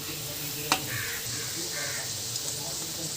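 Egg omelette noodles sizzle in a pan with a steady, close hiss, broken by a sharp clack of stirring and occasional crow caws in the background.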